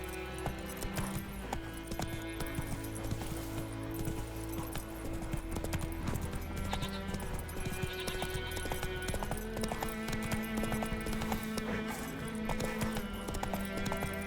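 Roach the horse galloping in The Witcher 3, a steady rapid clip-clop of hoofbeats with an occasional whinny over a continuous game music and ambience bed.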